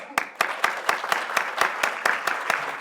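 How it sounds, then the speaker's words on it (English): Applause at a charity conference, heard as a few sharp, evenly spaced claps about four per second, fairly close and loud, over a softer bed of scattered clapping from the room. "So let's put our hands together, give them a warm applause."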